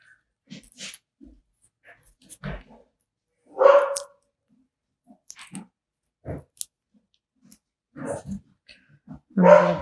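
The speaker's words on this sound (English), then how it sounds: "Sorry about the dog." A pet dog barks a few times in a room, sharp and fairly close. The barks are spread out among quieter clicks, rustles and chewing-like noises.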